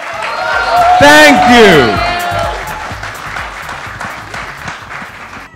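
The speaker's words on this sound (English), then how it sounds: "can we get a big round of applause for Team Magnum?" An audience at a Magnum ice cream launch event applauds loudly, the clapping swelling and then tapering off while a voice speaks over it.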